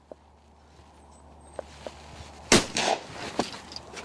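A single sharp shotgun shot at a clay target, fairly close and loud, sounds in a quiet outdoor setting during a shooting lesson, preceded by a few soft clicks and followed by brief rattling echoes.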